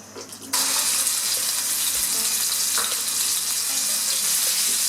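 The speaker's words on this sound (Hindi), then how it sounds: "अब इसके अंदर हमने 1 कप चिकन का कीमा लिया," Chicken mince hits hot oil with cumin in a pan, a sudden loud sizzle that starts after a brief quieter moment and then holds steady and close, with no talk.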